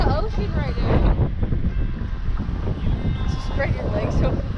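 Strong gusts of wind on Table Rock buffet the microphone in a constant, loud rumbling roar, with water movement and people talking underneath.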